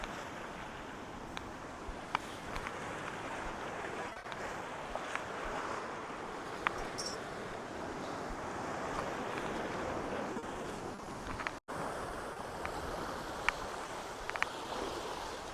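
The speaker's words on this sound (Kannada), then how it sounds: "ಯಬ್ಬಾ ಎಂತ ಅಲೆ ಹೊಡಿತದ" Sea waves breaking on the shore at Madigudde beach, a continuous broad wash of surf noise with wind buffeting the microphone throughout.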